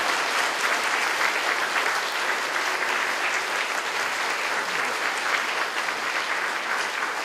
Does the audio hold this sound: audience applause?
yes